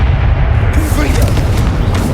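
Confringo explosion spell cast in the Hogwarts Legacy video game, a loud booming blast with rumbling low end and a sharp burst partway through, with a voice speaking over the combat noise.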